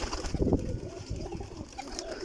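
Pigeons cooing in a rooftop loft, a soft, low, rolling coo that rises briefly and repeats over steady background rustle, close by and moderately quiet with no talking.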